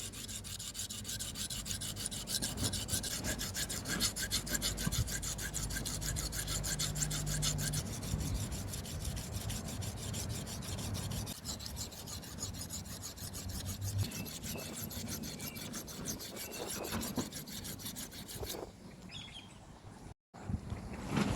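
A knife is sharpened on a Suehiro Debado whetstone, giving close, steady rasping and grinding strokes that run almost continuously, with a brief dropout near the end and no talking.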